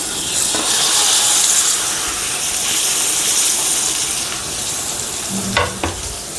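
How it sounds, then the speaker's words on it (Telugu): Marinated fish sizzles steadily in hot oil in a pan over a medium flame, a loud, continuous frying hiss with a couple of brief clinks near the end. "ఇలా ఫిష్ని అయితే వేసేసుకున్నాక మీడియం ఫ్లేమ్లో ఒక 5 నిమిషాల పాటు ఇటువైపు ఫ్రై చేసుకోండి బాగా."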